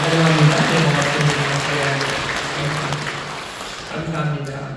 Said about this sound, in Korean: 박수해 주시죠.